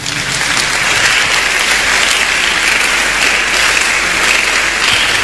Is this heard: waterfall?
no